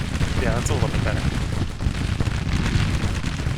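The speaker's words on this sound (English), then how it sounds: "Gunfire is supposed to be loud," Dense, continuous gunfire and booming artillery from a Civil War battle in the Grand Tactician: The Civil War video game, loud and rumbling throughout with overlapping shots and a voice speaking over it.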